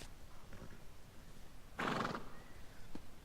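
A horse in Elder Scrolls Online gives a single short, bright neigh midway, over faint ambient noise with a few soft thuds before and after.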